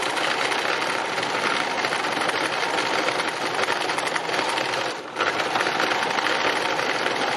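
A sewing machine running free machine embroidery: a continuous fast, loud mechanical whirr of needle stitching, broken by a brief pause near the end, with no voices.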